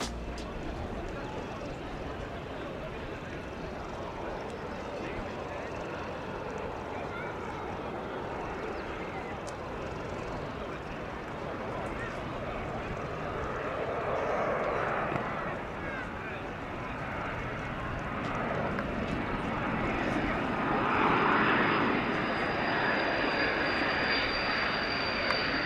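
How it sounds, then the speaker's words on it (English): C-160 military transport aircraft on a steep combat-style approach, a continuous loud engine roar that slowly builds and swells over about 25 seconds, with faint voices underneath. "This C-160 approaching in what you could almost call a nosedive, which is an approach used in combat."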